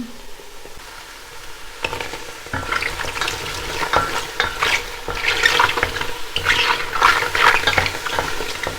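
Mushrooms fry in a pan, a steady sizzle building after a quiet start, broken by repeated scraping stirs that come and go close by.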